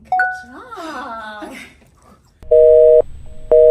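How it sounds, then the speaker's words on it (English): An old telephone line tone sounds in two loud, steady bursts with a short gap between them, preceded by a few brief warbling electronic tones. "A dial tone? Old telephone."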